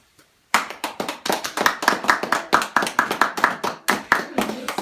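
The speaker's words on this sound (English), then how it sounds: "everybody give him a huge round of applause" An audience at a speech applauds a man who has stood up to be recognized, beginning abruptly after a brief pause, a quick crackle of many distinct claps that continues briskly to the end.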